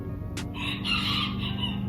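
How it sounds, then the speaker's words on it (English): A rooster crows nearby in one drawn-out early-morning call in a backyard, with chickens clucking softly over a steady low background hum. "You hear the chickens in the backyard."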